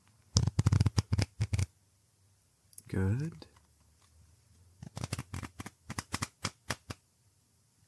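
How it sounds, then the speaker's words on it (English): Playing cards shuffled and riffled by hand, close and crisp, in two bursts of rapid flicking snaps separated by a brief spoken word. "tell me when I stop shuffling or riffling the cards"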